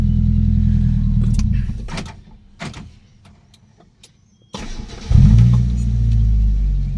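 A Mitsubishi 4G91 twin-cam engine idles with a low, steady hum, cuts out into near silence for a couple of seconds, then restarts with a louder surge and settles back into a smooth idle.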